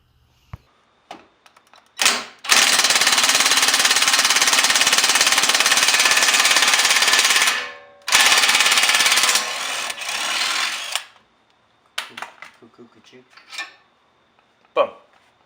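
Impact wrench or power tool loosening the strut top bolts on a 2018 Honda Civic Si during a lowering spring install, a loud sustained rattling burst of several seconds, then a brief second burst and scattered clinks afterward.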